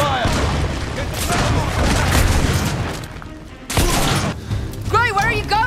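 Heavy gunfire and booming blasts in The Order: 1886 shooter, loud and layered with shouting voices, easing off briefly before another burst of firing and action.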